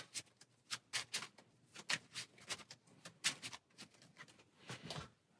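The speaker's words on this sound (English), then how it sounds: "All right, get this nice and shuffled." A deck of cards being shuffled by hand for a Marvel Champions card game, heard as a close, irregular run of crisp riffling bursts and taps with no talk over them.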